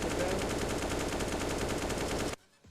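Rapid automatic gunfire in an online shooter game, a dense, continuous burst of shots lasting a couple of seconds before cutting off abruptly.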